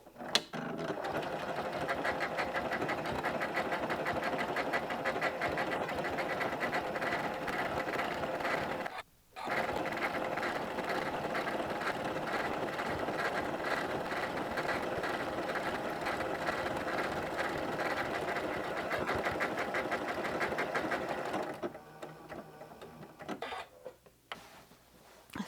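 Sewing machine stitching along the edge of fabric placemats, a steady fast rhythmic whir running continuously with one brief pause, close and fairly loud, then stopping near the end.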